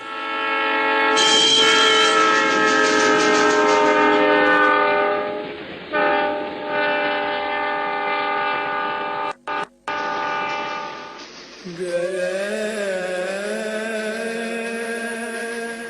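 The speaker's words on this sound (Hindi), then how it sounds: "ये ट्रेन पाकिस्तान जा रही थी" A train in a PTV drama scene, bound for Pakistan, sounds loud, sustained horn blasts that shift pitch and then give way to a wavering whistle-like tone over a continuous rumble of running carriages.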